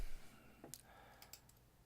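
A single mouse click on a Save button, small and close, followed by a couple of fainter clicks in a quiet room.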